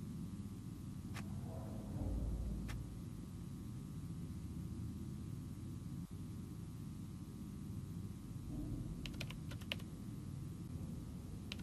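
A damaged computer keyboard in the video game Still Life 2 gives a few sparse, faint key clicks, clustered briefly toward the end, over a steady low rumble.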